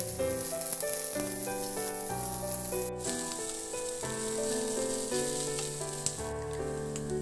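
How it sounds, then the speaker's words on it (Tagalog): Ginger and onion sauté and sizzle in a pan for a bangus (milkfish) dish, a steady frying hiss running throughout beneath louder background music. "Ihalo lang din hanggang sa maluto yung sibuyas."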